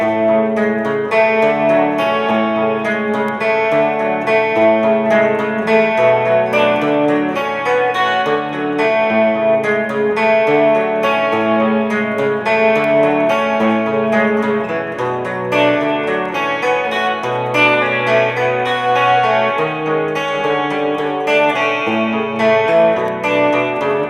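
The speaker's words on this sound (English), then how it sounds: "putting together all those 4 separate parts now from the top sounds like this" An electric guitar with effects plays the layered parts of a song, a continuous chiming, chorused arpeggio pattern with dense sustained notes, loud and steady throughout with no talking.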